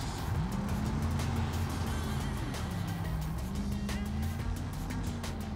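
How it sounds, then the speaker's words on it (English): A BeamNG 1970s car engine drones and revs steadily with rising pitch sweeps, a turbo wastegate hiss and flutter riding on top of the motor. "you can actually hear the wastegate"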